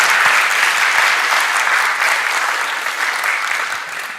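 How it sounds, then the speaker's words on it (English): Loud, sustained applause from a graduation audience for the Dean, a thick continuous roar of clapping that stays strong throughout and eases slightly near the end. "I think you wanted to give the Dean a hand"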